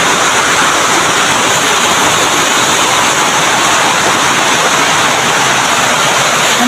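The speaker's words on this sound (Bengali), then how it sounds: "রাস্তায় পানি জমে গেছে, প্রচুর বৃষ্টি।" Heavy rain pours down steadily, a dense, loud broadband roar of water with no breaks, as rainwater pools on a road; no voices or other sounds cut through.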